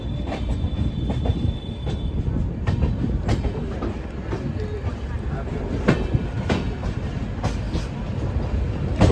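The Mithila Express pulls out of Barauni railway station, its wheels clacking in irregular rhythmic knocks over a steady rumble of carriages, with faint squeals and occasional voices in the background.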